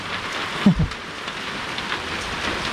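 Heavy rain pouring down steadily outdoors at a rural home in northern Thailand, a dense continuous hiss with one brief low thud early on, no voices.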